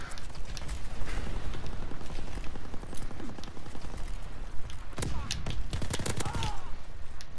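Rapid bursts of Nambu Type 2 submachine gunfire in the zombie mode of COD WWII, loud and busy with clattering shots and mechanical clicks, heaviest near the end.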